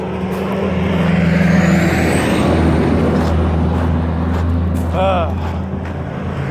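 A truck passes nearby with a continuous low engine drone and road rumble, joined by a brief squeal and some talking in the background.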